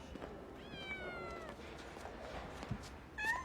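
A cat meows a few times, thin drawn-out cries over quiet room noise, with a last short meow at the end. The setting is the film Back to the Cretaceous (1998).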